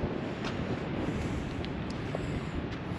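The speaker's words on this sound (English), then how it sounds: "The wind isn't too bad, I hope." Coastal wind at Cape Lookout State Park buffeting a microphone, a steady roaring rumble with gusty low-frequency swells, loud and close with no talk.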